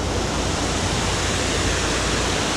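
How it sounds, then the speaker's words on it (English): Water rushes steadily over a river dam, a loud, dense, unbroken roar that fills the whole space with no pauses, close by and alone. "We are here at a river slash dam"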